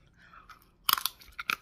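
Crispy roasted pork belly lechon skin crunches loudly under several quick bites, a cluster of sharp cracks followed by a few more after a short pause, close up with no talking.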